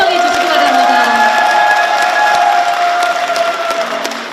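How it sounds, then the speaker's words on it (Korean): Crowd applause welcoming party members at a book launch event, with loud sustained clapping and cheering from a packed hall and voices shouting over it. "당원 동지분들 박수로 환영해 주시기 바랍니다"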